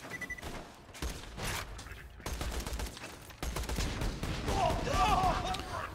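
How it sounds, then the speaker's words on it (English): A loader robot in Borderlands 2 fires a rocket volley, a dense run of blasts and explosions that keeps coming in bursts and builds toward the end, with speech heard partway through. "I wasn't expecting a rocket volley like that."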